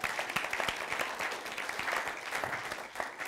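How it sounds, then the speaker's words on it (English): A church audience at a teaching session on spiritual gifts claps together in warm, sustained applause, a close, continuous patter of many hands lasting the whole stretch. "Let's give her a clap and just appreciate it."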